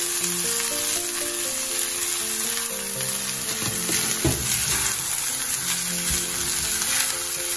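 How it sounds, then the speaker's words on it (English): Cooked rice and mixed vegetables stir-frying in a pan over a high flame for restaurant-style fried rice, a steady loud close sizzle with scraping and stirring of the ingredients throughout and no talking. "Now we are going to add the cooked rice to our vegetables."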